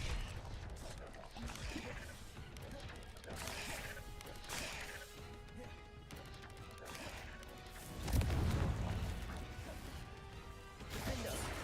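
A Confringo blast spell in a video game goes off with a crashing, booming burst amid clattering game effects, a heavier low impact swelling midway, fairly faint overall with occasional voice.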